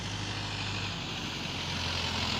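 A tractor engine drones steadily on a farm, arriving for the harvest work, its low, even rumble moderately loud and continuous with no voices.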